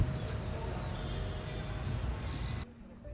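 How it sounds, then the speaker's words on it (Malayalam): High, thin bird calls sweep and trill over a low background rumble, heard from a balcony in Bari, Italy, continuing for a few seconds before cutting off abruptly. "ബാൽക്കണിയിൽ നിന്ന് കുറേ നേരം ഈ കിളികളുടെ ശബ്ദവും കേട്ട്"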